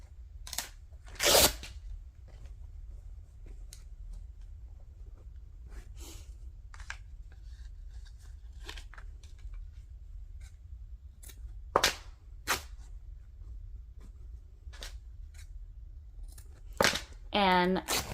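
Muslin fabric is torn by hand in short, sharp ripping bursts spaced by quiet pauses, close and crisp, with soft movement between tears.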